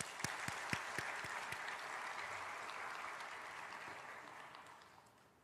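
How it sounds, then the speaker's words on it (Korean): A church congregation at a Sunday afternoon worship service applauds, starting with a few sharp claps that swell into steady clapping, then tapers off gradually. "박수!"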